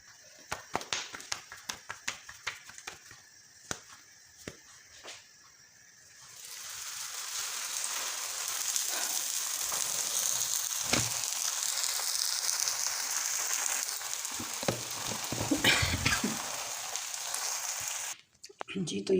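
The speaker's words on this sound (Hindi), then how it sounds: "तो इस तरह करके असली देसी घी में मैं इन पराठों को तैयार कर लूँगी" Sarson saag paratha frying in desi ghee, a steady hiss and sizzle that swells after some sharp taps and clatter at the start, heard close, with someone talking over it.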